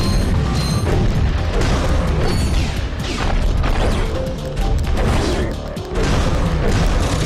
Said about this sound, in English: When your energy bar is full, press the triangle button to unleash. Energy Blast!